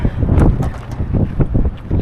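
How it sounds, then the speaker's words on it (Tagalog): Strong wind buffets past a truck, a loud low rumbling roar with gusty flutter against the microphone, brief and continuous. "Lakas ng hangin."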